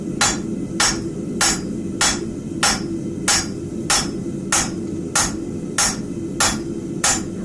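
Steady, evenly spaced hammer blows on hot steel at a blacksmith's forge, about twelve sharp ringing strikes in a regular rhythm. Each blow stands out clearly over a constant low roar from the forge.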